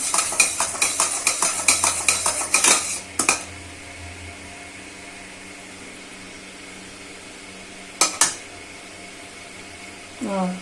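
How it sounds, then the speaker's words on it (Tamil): Metal spoon scraping and clinking rhythmically against a pan of cooked jaggery syrup, a quick run of stirring strokes at the start, then a few isolated clanks later, with a voice talking throughout. "ரெண்டு ரெண்டு மூணு வாட்டி இப்படியே ஸ்டேர் பண்ணுங்கள்"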